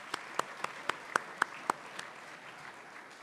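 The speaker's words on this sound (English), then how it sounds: "Truly, give yourselves a round of applause." An audience in a room gives sparse, quiet applause: about nine sharp claps at a fairly even pace that soon thin out and fade.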